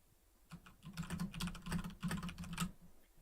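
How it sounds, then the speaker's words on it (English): Fingers typing on a computer keyboard nearby, in quick irregular bursts of sharp clicks separated by short pauses, with no talking. "When I start typing, observe the VU meter at the bottom."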